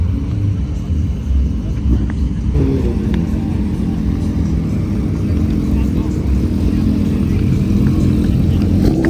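A Bugatti Chiron hypercar pulls away from a car show, its engine a steady low rumble that builds as it departs, with people talking nearby throughout.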